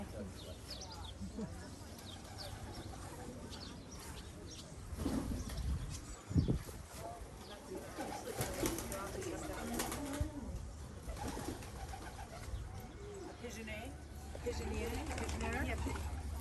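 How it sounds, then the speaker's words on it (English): Pigeons or doves coo repeatedly in a mixed coop of birds at Clove Brook Farm, soft and continuous, while people talk nearby over the birds. "And then this is a mixed coop of birds."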